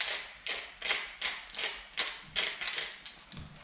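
Pepper mill grinding black pepper in a kitchen: about eight crisp, ratcheting turns in a steady rhythm, close and fairly quiet, with no voices.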